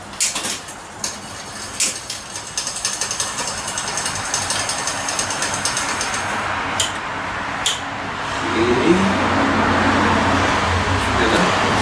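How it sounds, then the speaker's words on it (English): Gears on an old bicycle shift with ticking metallic clicks while the chain runs, starting as irregular ratcheting and settling into a steadier mechanical whir close by. "let's see how this bad boy shifts"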